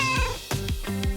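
A hungry house cat meows repeatedly, three or four loud, close, drawn-out calls in quick succession with no talking over them.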